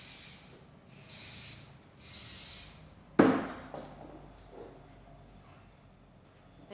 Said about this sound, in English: And then you'll secure with some hairspray.